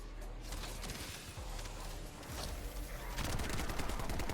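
Dense rapid gunfire and bursting toxin explosions from The First Descendant run continuously in a loud, crackling wash of combat noise that grows heavier in the last second.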